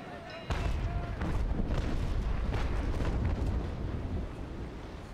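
Cannon fire in a naval battle in the game Naval Action, a sudden heavy boom followed by a sustained rumbling roll of overlapping blasts, loud and continuous for several seconds.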